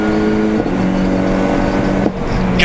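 Race cars at a Jordan race meeting drone past with a loud, sustained engine tone, shifting pitch as they pass and change gear, with a brief high whine near the end.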